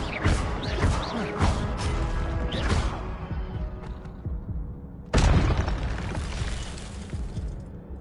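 Fiery bursts of an Incendio spell in Hogwarts Legacy, a loud whooshing blast followed by crackling, then a second sharp burst around the middle that fades out.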